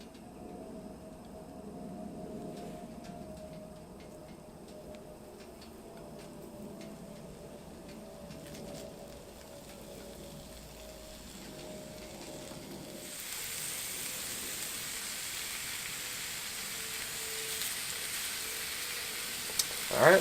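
Bacon-wrapped asparagus hits an oiled Blackstone griddle and sizzles. A low crackle runs under light handling noise, then the frying hiss grows suddenly louder and brighter partway through and holds steady to the end.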